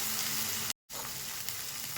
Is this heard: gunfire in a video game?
no